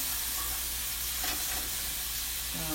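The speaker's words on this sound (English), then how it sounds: "we're going to saute this for like another minute or so" Ingredients with garlic sautéing in a pan give a soft, steady sizzle at low volume, with a faint stirring scrape partway through and no talking.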